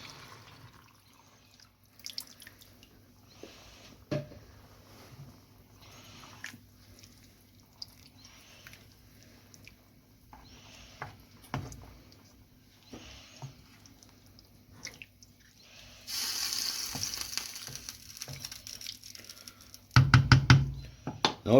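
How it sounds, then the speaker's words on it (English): Lasagna ragu sauce with added stock simmering in a pot, giving quiet scattered pops and drips, then a louder hissing rush near the end. "Now all we're going to do is just let that simmer for an hour, hour and a half."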